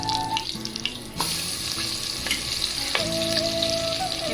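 Oil sizzles steadily in a pressure cooker for mutton bone soup, a close, continuous frying hiss with occasional clinks and stirring knocks and a brief quieter gap near the start.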